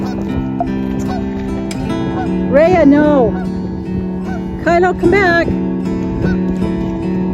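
Geese honk in a few loud bursts over a steady low hum, with a person calling out in between.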